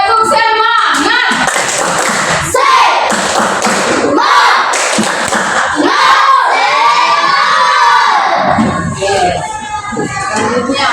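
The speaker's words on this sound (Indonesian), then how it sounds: "Tepuk semangat." A classroom of children does a rhythmic spirit clap, loud and close, with bursts of shouting and cheering over steady clapping and thumps.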